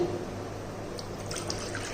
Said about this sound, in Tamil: அதே பவுல்லையே இப்போ நம்ம வந்து தண்ணி ஊற்றிக்கிடுவோம்